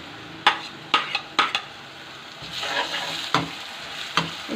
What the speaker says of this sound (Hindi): अब इसके अंदर हम अदरक और लहसुन का पेस्ट जो हमने बना के रखा था उसको डालेंगे और इसको फ्राई करेंगे।